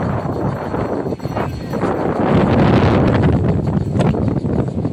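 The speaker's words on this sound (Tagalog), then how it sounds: "lakas ng hangin" Strong wind buffets the microphone outdoors at Sitio Paye, Lian, Batangas, in loud, gusty rushes that swell and ease, with a faint clatter underneath and no voices.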